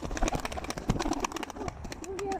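Pigeons coo softly in short, soft bursts, with rustling and fluttering sounds close by.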